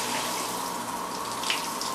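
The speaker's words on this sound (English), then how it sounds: "just run your cold tap" Cold water running steadily from a tap on a newly fitted single mixer into a sink, a continuous close hiss and splash.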